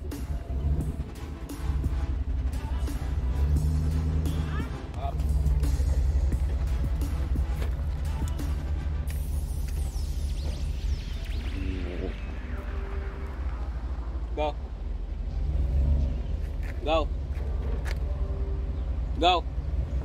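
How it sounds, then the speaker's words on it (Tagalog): A car slowly reverses to hitch a camping trailer at Rainbow Beach, Manitoba, its low engine drone steady and close throughout, with people talking over it and a few faint high beeps near the end. "So, now, nagba-backup na kami para makonek yung trailer sa ano,"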